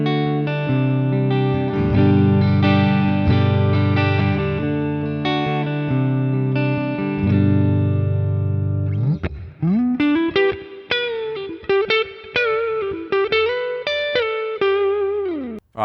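Electric guitar through a Boss Katana Air amp on the clean channel with built-in reverb, sustained chords giving way to single-note picking, with a reverb tail on each note.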